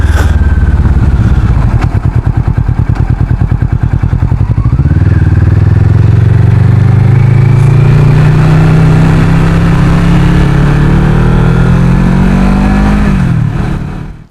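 A Kawasaki Vulcan S motorcycle with an Arrow exhaust idles with a throbbing pulse, then pulls away and accelerates hard in a long rising run. The engine is loud and near throughout, then cuts off abruptly. No voices are heard.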